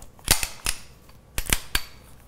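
A handgun being checked to confirm it is unloaded, heard up close as a quick series of sharp metallic clicks and clacks from the slide and action, arriving in two short bursts with no talking.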